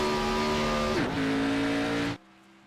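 Race car engine in a Daytona sim racing game, revving high and steady with a brief pitch dip mid-rev, then cutting off abruptly to near silence.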